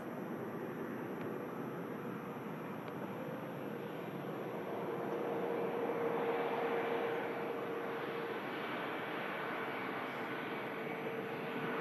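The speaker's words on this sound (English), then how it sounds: "Oh, it's the A321 Neo as well. Based here at Manchester Airport." Airbus A321neo jet airliner at Manchester Airport, a steady broad engine roar heard from a distance that swells slightly midway and holds on without talk.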